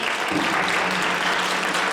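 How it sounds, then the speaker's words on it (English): An audience at a middle school eighth grade band concert claps in a full, even round of applause, many hands together, loud and sustained without a break. "Would you give them another round of applause?"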